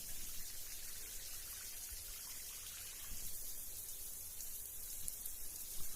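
Shower water pours in a steady, soft hiss at low level, continuous and even throughout with no voices.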